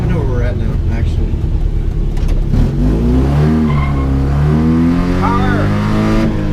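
A 1980 Mitsubishi Minica kei car engine revs up and down loudly nearby, its pitch rising and falling in several sweeps while someone talks over it.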